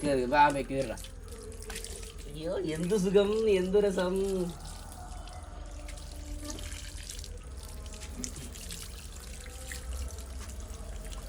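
Water is poured and splashes while a pet dog named Micky is being bathed, a close steady trickle and splatter continuing through the clip, with a person's exclamations over the first few seconds.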